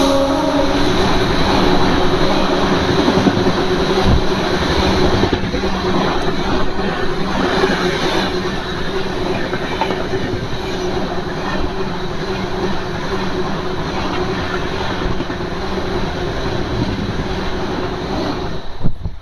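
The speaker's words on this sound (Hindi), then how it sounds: "फ़िलहाल हमारा डिपार्चर हो रहा है नीम का थाना रेलवे स्टेशन से" Inside the Tanakpur–Daurai Express as it departs Neem Ka Thana railway station in India, a loud, continuous rumble of wheels and carriages runs throughout without pause.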